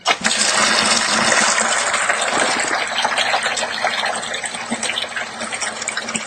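Water gushes steadily through a cut line into a bucket, a loud continuous rushing pour that stays close and constant throughout, with no talk over it.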